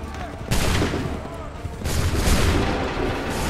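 Musket volleys crack out during the Lexington and Concord battle in Assassin's Creed III Remastered on PS4, with two loud, dense bursts of massed gunfire about a second apart amid chaotic battlefield noise.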